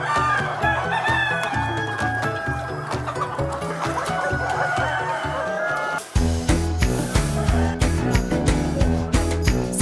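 Chickens on a poultry farm cluck loudly and continuously, with crowing mixed in over a busy, rhythmic mechanical background, close and dense throughout.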